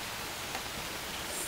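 Soft rain patters on a child's raincoat in a steady, faint hiss with no voices present.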